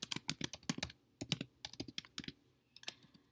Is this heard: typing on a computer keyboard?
yes